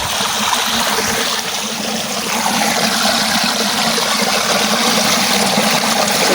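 Irrigation water running through a farm channel toward crops, a strong, steady rushing and gurgling flow heard close up and unbroken throughout.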